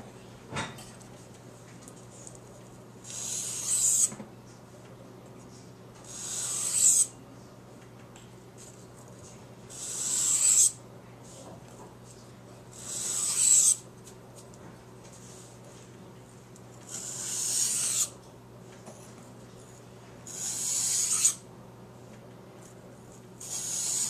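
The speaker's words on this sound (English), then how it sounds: "I'm going to be taking the burr off of the bevel and honing it down a little bit" Small neck knife blade honed by hand on a wet whetstone to remove the burr from the bevel, seven evenly spaced bursts of hissing grinding strokes about every three seconds over a low steady hum, with no talk.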